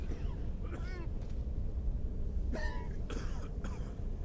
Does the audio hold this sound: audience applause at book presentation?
no